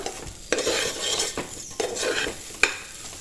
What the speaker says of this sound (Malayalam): അരി ചേർത്തിട്ട് ഒരു 2 മിനിറ്റോളം ഒന്ന് വഴറ്റി കൊടുക്കാം